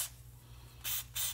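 Penetrating lubricant sprayed from an aerosol can onto the CV joint of a 2010 Dodge Caravan, two short close hissing bursts over a low steady background hum.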